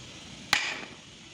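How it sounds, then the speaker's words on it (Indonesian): A hammer dropped onto a fiberglass plate about 1 cm thick, a single sharp close impact with a brief ringing decay, otherwise quiet. "Yang pertama gue akan jatuhin palu ini tanpa kekuatan"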